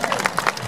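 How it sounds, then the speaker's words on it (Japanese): An audience applauds at a street performance during a street performers' festival in Hakodate, giving brief, dense clapping from a crowd, fairly close and moderately loud. "拍手をお願いいたします。"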